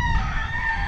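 A rooster crows in one close, loud, drawn-out call that cuts off abruptly, heard outdoors at a scenic hillside spot overlooking Bacolod.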